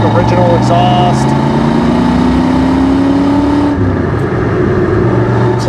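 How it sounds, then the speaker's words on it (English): A 1985 Ford Mustang GT with its stock original exhaust accelerates on the road, a loud close-up engine drone rising steadily in pitch, then dropping off as the driver eases the throttle, with road noise throughout. "Bone stock original exhaust."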